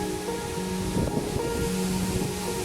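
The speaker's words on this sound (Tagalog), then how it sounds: "Bumabagyo dito. Ang lakas ng hangin." Strong storm wind roars and buffets the microphone continuously in a garden, a broad rushing noise with low gusty rumbles and a faint steady hum beneath.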